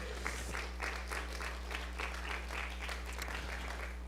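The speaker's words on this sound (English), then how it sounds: "you can give a round of applause to our LA Family Church Band" LA Family Church congregation applauding their church band at a Sunday service, soft clapping from many hands that comes in uneven bursts, faint and somewhat distant over a steady low electrical hum.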